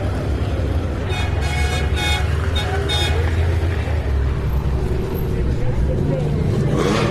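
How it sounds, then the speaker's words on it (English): Ferrari sports cars roll past at a classic car event, engine drone layered with bursts of horn toots and busy traffic noise, with people talking in the background. "I think we've had about 30 Ferraris roll past me here"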